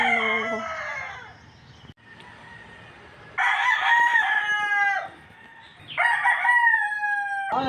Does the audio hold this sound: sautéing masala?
no